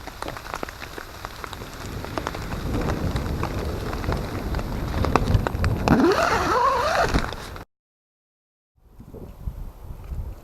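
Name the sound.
rain falling on tarp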